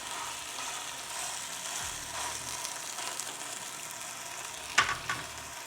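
Steak seared in avocado oil on a Ninja Foodi grill and griddle, giving a steady, even sizzle that holds nearly the whole time, close and fairly quiet, with one brief scrape or clatter near the end.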